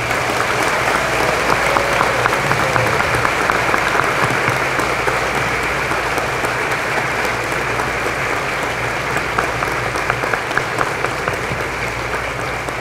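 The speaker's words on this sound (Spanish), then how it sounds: "Para ustedes, fuertes aplausos." Loud, sustained applause from a large hall audience welcoming newly registered engineers at a Peruvian engineering college ceremony, continuous dense clapping with crowd noise.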